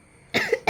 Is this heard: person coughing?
yes